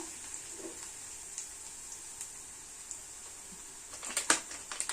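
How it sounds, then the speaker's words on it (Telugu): Curry leaves and seasonings for a mushroom curry fry in a pan with a soft, steady sizzle, joined near the end by a few quick clinks and crackles from stirring. "ఇవి చక్కగా ఫ్రై అయ్యే వరకు మనం 2 నిమిషాలు ఫ్రై చేసుకొని"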